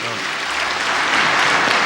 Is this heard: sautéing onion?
no